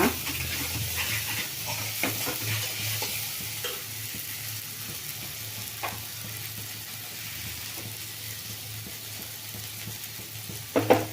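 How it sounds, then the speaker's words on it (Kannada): Steady sizzling of spice masala for egg chilli masala frying in hot oil, with occasional scraping stirs and a brief clatter near the end; no voices. "ನೋಡಿ, ಈಗ ಮಸಾಲೆ ಎಲ್ಲ ಫ್ರೈ ಆಗಿ ಎಣ್ಣೆ ಬಿಟ್ಕೊಳ್ತಾ ಬರ್ತಾ ಇದೆ"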